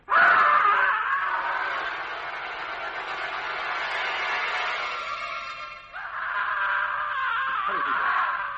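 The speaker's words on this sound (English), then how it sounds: "Listen, a scream from the window." A loud, sustained scream from a window in an old radio drama, one long wailing cry that sags and breaks off, then rises again into a second shrill burst.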